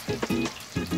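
Onion and garlic sautéing in a pan for a spaghetti dish, a steady sizzle with soft bursts of stirring and scraping, close and fairly loud.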